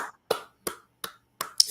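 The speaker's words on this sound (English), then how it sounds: "Slow clap, like in the 80s movies." Slow clap: five sharp, isolated claps spaced evenly about a third of a second apart, close and crisp with silence between each.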